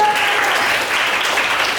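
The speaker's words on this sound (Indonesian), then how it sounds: "Tepuk tangan dulu." A class in an Indonesian lesson applauds after a short story reading, with dense, steady clapping from many hands filling the whole short stretch at close range.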